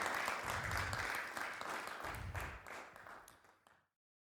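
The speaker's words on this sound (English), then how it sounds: "Ladies and gentlemen, round of applause." An audience at a soundstage music performance claps and applauds in a dense, steady wash that fades out after about four seconds.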